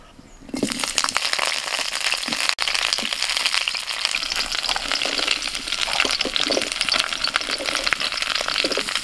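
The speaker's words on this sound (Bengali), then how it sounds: "প্রথমেই গাজর, ফুলকপি আর বিনস ভেজে নেব।" Carrots, cauliflower and beans frying in a pan: a loud, continuous sizzle that starts abruptly as the vegetables go in, with crackles and stirring scrapes throughout, no talk.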